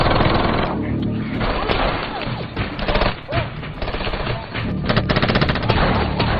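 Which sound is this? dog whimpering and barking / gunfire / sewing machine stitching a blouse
gunfire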